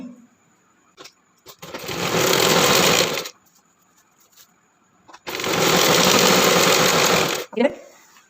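Two loud bursts of machine stitching on a churidar top, each lasting a couple of seconds, separated by quiet pauses with small handling clicks.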